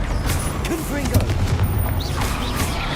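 Explosive Confringo blast spells in Hogwarts Legacy spell combat: repeated booming bursts and crackling impacts layered over shouted incantations and other spell effects.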